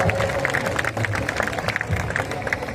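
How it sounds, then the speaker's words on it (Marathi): An audience at a Kalyan Mohotsav stage event applauds a performer with steady, dense clapping that runs unbroken throughout and mixes with a faint crowd murmur. "त्यांच्यासाठी जोरदार टाळ्या वाजवा"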